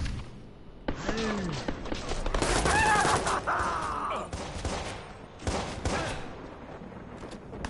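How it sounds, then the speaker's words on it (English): Rapid bursts of gunfire in a first-person shooter video game, loud and dense through the middle with scattered shots before and after, with a voice briefly heard among them. "Who's firing at me?"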